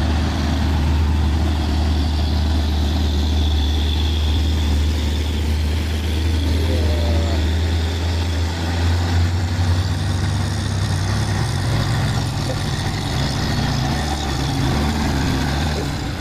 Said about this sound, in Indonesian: satu unit truk trailer Losbak. Ya, dia sudah ancang-ancang menanjak dari bawah